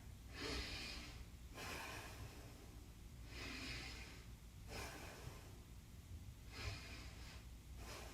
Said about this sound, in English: And a long deep breath here.